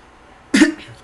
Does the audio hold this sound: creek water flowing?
no